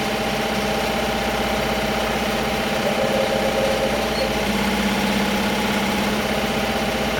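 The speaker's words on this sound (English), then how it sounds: "how comfortably the machine operates even at maximum sewing speed" A Happy HCD2 single-head embroidery machine stitches a ball cap at its top speed of 1,000 stitches per minute, giving off a dense, steady mechanical whir and rapid vibration that holds constant throughout, loud and close, with no talking.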